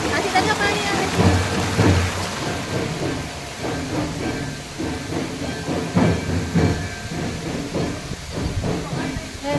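A flowing stream of water in an outdoor channel rushes with a continuous broad splashing hiss, fairly close and steady, while voices talk intermittently over it.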